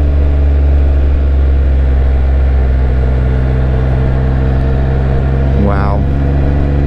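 Steady engine drone of a 2023 Can-Am Spyder F3-LTD SE three-wheeled motorcycle while riding, a continuous loud low rumble with road and wind noise throughout and a brief rising whine near the end.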